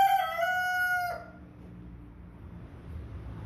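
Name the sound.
young rooster crowing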